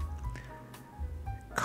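Liquid in a freshly baked apple pie bubbles out of the oven, giving soft wet squishes and drips in a short, quiet, close burst.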